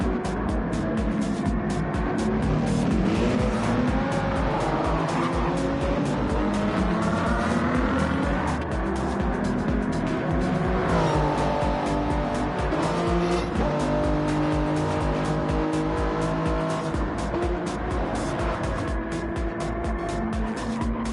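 Toyota Supra GT race cars in a Gran Turismo-style GR3 racing game league, engines roaring loud and continuous with rising and falling revs through gear shifts and occasional tire squeal, no talking.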